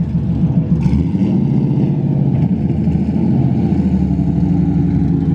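A Nissan 350Z engine revs and roars steadily close by outside, its deep rumble holding loud throughout with no voices.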